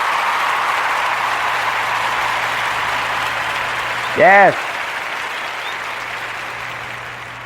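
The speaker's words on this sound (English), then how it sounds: "And a round of applause for them" A steady, dense wash of applause runs throughout, and a single short spoken word cuts in briefly partway through.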